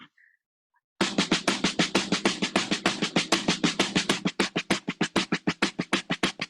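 Dense rapid strumming in a driving Mexican mariachi rhythm, accents shifting between groupings of two and three, loud and close after a brief silence.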